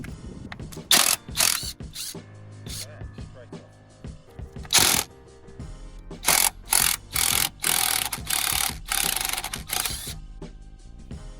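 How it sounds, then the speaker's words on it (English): An impact gun running in reverse works on a front hub fixing of a Renault Clio 3 during a shock and spring swap, firing repeated loud rattling bursts of varying length with brief mechanical clicks between them. "You're going to get the gun, stick it in reverse and see whether or not this wants to come off"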